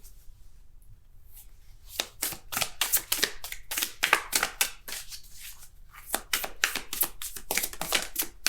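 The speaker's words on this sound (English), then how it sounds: "Keep shuffling." Tarot cards being shuffled up close, a steady run of crisp riffling and slapping bursts that thicken after a quiet opening second, with no voice over them.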